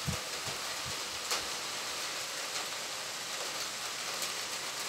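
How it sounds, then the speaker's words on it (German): Rain pattering on a railing outdoors in an evening shower, a dense, steady hiss of drops with a few louder close taps, continuous and fairly loud. "Wie das auf den Geländer so prasselt."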